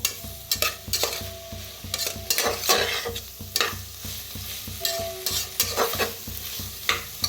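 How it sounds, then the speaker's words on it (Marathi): Spice masala for masale bhaat roasts in a pan, with loud rhythmic spatula scrapes and clanks over a low continuous sizzle; no voices. "मस्त भाजलं चाललेलं आहे बघा, किती छान भाजलेला आहे"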